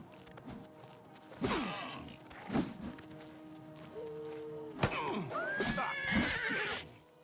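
Several loud horse whinnies ring out in the video game Oblivion Remastered, mixed with clattering hits and rustling during a fight, the neighs close and sharp with brief gaps between them.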